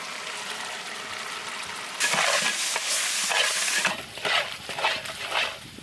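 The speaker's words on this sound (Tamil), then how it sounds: "மசாலா நல்லா நம்மளுக்கு ஃப்ரை ஆயிடுச்சு." Kitchen King masala fries and sizzles in a pan for a chicken biryani. A steady hiss is joined about halfway by louder, irregular scraping stirs that come close and keep going to the end, with no one speaking.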